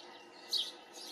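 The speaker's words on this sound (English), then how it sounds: "they just have the basically all noisy chirping sounds" A common backyard bird gives a single short, noisy chirp, faint and brief against a quiet background.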